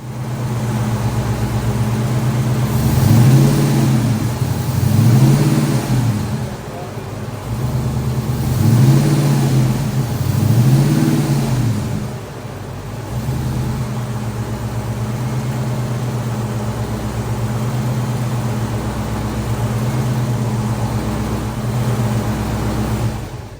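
A freshly rebuilt HEMI V8 runs steadily through break-in, loud and close, with a constant idle drone broken by several rhythmic revs that rise and fall in pairs before settling back to a smooth, even running note.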